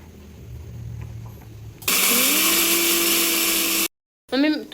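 A kitchen mixer grinds a paste of coconut, onion, tomato, coriander and ginger, a loud, steady whine lasting about two seconds. It stops abruptly, then briefly whirs again, after quieter household background noise.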